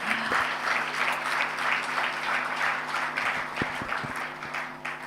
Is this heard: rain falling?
no